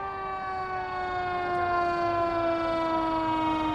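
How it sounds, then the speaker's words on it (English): A wailing emergency vehicle siren responds to a hotel shelter, a loud sustained tone sliding slowly downward in pitch over steady street noise, heard alone. "A seemingly never-ending stream of sirens, responding to a location they know how to get to by now."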